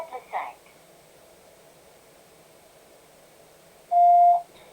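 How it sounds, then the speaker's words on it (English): A voicemail recording tone sounds as a single steady electronic beep near the end, after a brief automated prompt voice and a stretch of near silence. "At the tone, please record your message."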